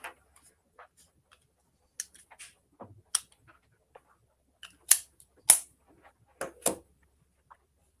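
Pistols being handled, sharp metallic clicks and clacks scattered irregularly, some crisp and loud, others faint, in a quiet room with no talk.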